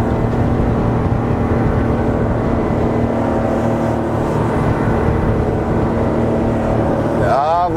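Homebuilt motorboat on its maiden voyage, its engine running steadily and loudly throughout at low speed, with a voice talking over the drone.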